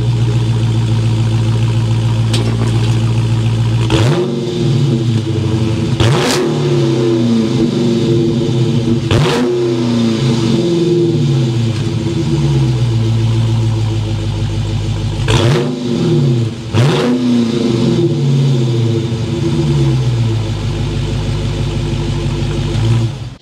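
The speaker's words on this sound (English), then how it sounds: "We have 392 cubic feet of reasons to start up that exhaust so you can hear it rev up now." Close, loud revving from the 392 exhaust of a 2023 Dodge Challenger Scat Pack: a deep idle burble broken by about six sharp throttle blips that rise and fall back.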